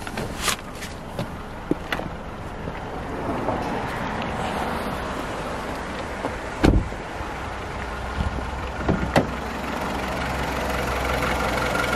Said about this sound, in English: Yep, definitely an engine.